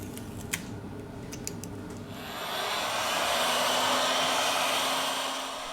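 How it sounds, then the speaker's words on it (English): Heat gun warming the screen of a Xiaomi Mi 8 Lite phone during a repair, its steady blowing hiss switching on partway through and holding loud and even after a few faint clicks. "With the help of the heat gun, we apply 19 Celsius degrees during 4 minutes"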